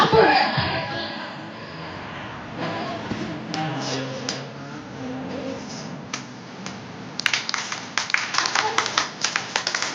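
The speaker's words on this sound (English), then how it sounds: "let us give a biggest round of applause to the family of Christian on their beautiful opening dance number" Audience clapping for a family's opening dance number at a celebration, sparse at first under voices and background chatter, then building into a denser run of crisp claps toward the end.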